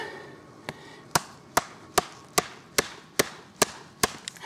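A Schrade SCHF 14 knife chops into wood with nine sharp, evenly spaced strikes about every half second, each a crisp close thwack over quiet background, with no talk.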